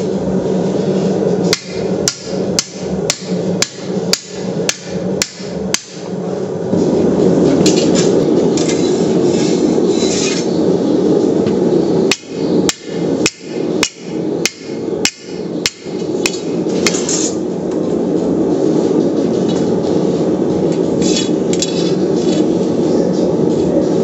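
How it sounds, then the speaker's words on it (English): Heavy blows land one after another as the end of steel stock is driven into an anvil to upset it. Two loud runs of sharp, evenly spaced strikes are separated by a pause. "I'm going to drive the end of the stock into the anvil, and that's going to push the steel up and out."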